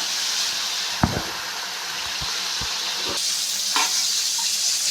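Finely chopped tomatoes frying in a pan for upma, a steady close sizzle with a few soft knocks and scrapes of stirring, no voices.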